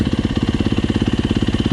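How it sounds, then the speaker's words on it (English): A Yamaha YZ250 dirt bike started on its electric starter, a loud close rapid pulsing chug that repeats evenly with no gaps, with no one talking. "hoping I'm using the electric starter now"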